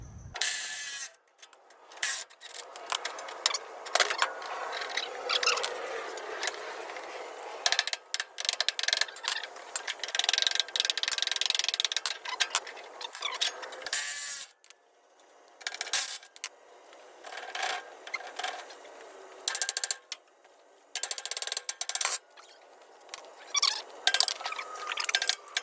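A ratchet wrench works loose the U-bolts on the suspension of a 1968 Chevrolet C10 truck, with rapid clicking bursts in repeated runs separated by short pauses and metallic clanks, close and fairly loud.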